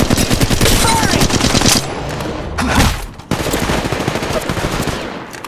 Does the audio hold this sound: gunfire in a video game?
yes